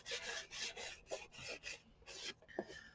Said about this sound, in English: grinding off the little bits that are sort of rough, like along that edge, and just smoothing it out a little bit